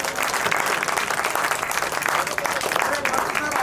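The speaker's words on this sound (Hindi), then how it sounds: "तालियां" Enthusiastic applause fills the hall at a poetry gathering, dense steady clapping from a sizable audience, loud and continuous throughout.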